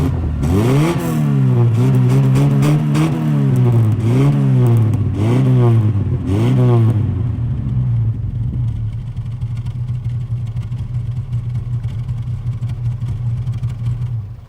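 A 1960s Ford Escort MK1 Estate engine is heard from the rear of the car. It revs sharply about six times in quick succession, then settles into a steady, rumbling idle.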